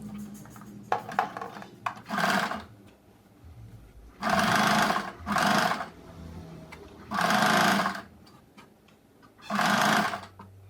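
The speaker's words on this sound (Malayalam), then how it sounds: "സെൻറ്ററും സെൻറ്ററും കൂട്ടി ചേർത്തിട്ട് ഞാൻ തയ്ക്കുക" A sewing machine stitches a churidar top in four or five separate bursts of rapid mechanical whirring, each a second or so long with quiet pauses between, close and clear, with small handling noises at the start.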